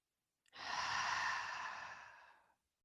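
One long, slow exhale during a guided box-breathing meditation, a soft airy breath close to the microphone that fades gradually over about two seconds in silence.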